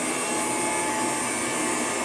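A P A Geier Royal vacuum cleaner made in 1920 runs with a loud, steady, close whirring roar while it sucks up rice, no voices over it.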